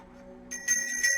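A bell rings in a few bright, clear strikes that build in loudness over a low background tone, heard close and alone.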